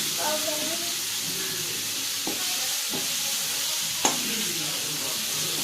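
Ripe tomatoes sauté in a pan with a continuous close sizzle and hiss, broken by a few sharp spoon clinks and scrapes against the pan.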